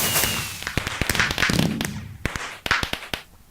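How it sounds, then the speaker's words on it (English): Video-game fireworks burst as a rapid series of sharp, loud cracks and pops, some clustered and some spaced apart, fading toward the end, with no speech. "oh no, not the fireworks again!"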